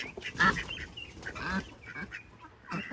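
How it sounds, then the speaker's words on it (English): A few ducks quack and honk nearby in short, scattered calls, fairly close and unaccompanied by speech. "The ducks are already chirping away."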